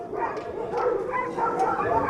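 Many dogs barking and yipping together at an animal shelter built to hold 500 dogs and 250 cats, a dense, continuous chorus of overlapping barks at steady moderate loudness, with no talk.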